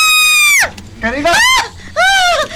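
A woman screams in fear in three loud, close, drawn-out bursts with short gaps between them, each cry rising and then sliding down in pitch, in a tense horror drama scene.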